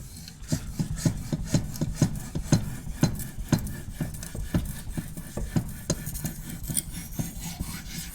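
A kitchen knife blade gets a touch-up on a sharpening stone, with steady rhythmic rasping strokes repeating about twice a second, close and fairly loud, and no talking.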